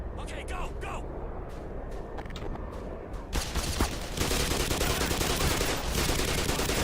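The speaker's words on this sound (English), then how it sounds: "Not me shooting before I can see them." Rapid video game gunfire from a shooter, loud bursts of shots that grow denser and steadier in the second half, with other game sounds underneath.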